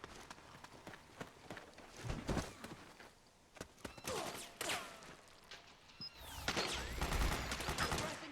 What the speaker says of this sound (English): Who's shooting at who?